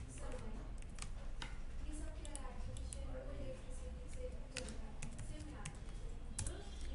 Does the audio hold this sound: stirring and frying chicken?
no